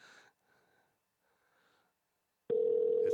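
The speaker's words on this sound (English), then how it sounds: "It's ringing." A phone call's ringback tone starts abruptly after near silence and faint breathing, a loud steady tone sounding on its own near the end.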